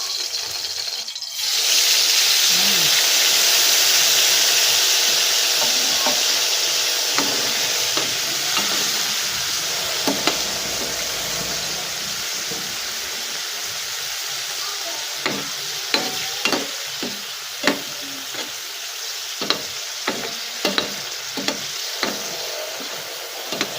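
Shrimp hiss and crackle steadily in a hot frying pan before going into bamboo shoots. The loud, continuous sizzle runs with scattered scraping stirs and taps near the end.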